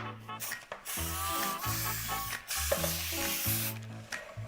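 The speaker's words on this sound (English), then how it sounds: "Now you want to spray the sides with some cooking spray." Cooking spray hisses in short, repeated bursts onto the sides of a pan, close and fairly loud over low background music.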